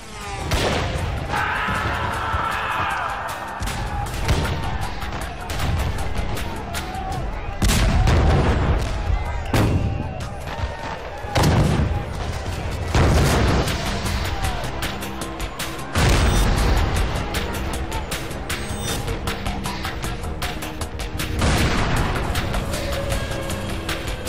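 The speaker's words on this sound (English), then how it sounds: "The shots that killed Davy Crockett and his fellow settlers echoed across America" Battle sound effects for the Alamo: repeated heavy booms of artillery and bursts of gunfire, loud and close, rising in several big blasts over a dense, rumbling background without speech.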